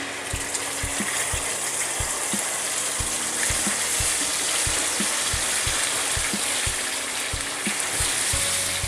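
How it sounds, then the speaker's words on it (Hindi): Masala paste fries in a kadhai for restaurant-style kadhai paneer, giving a loud, steady sizzle punctuated by regular clicking spatula strokes. No one talks. "और इसको हम 2-3 मिनट के लिए भूनने देते हैं"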